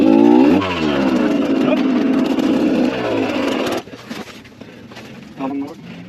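A scrambler motorcycle on a hard enduro trail revs hard, its engine pitch rising and falling over several seconds before cutting back to a low idle, with a brief blip near the end.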